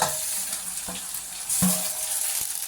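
Turkey berries and tomatoes sautéing in a pan give a steady, close sizzle with a few soft knocks and scrapes from stirring, and no voices over it.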